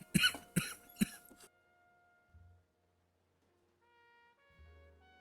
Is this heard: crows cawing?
no